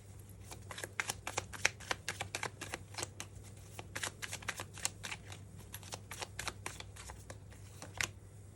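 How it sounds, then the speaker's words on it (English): A deck of tarot cards is shuffled close up, a fast run of crisp riffling clicks and flutters that continues steadily for several seconds in an otherwise quiet room. "I feel like I want to get another card for that Three of Swords."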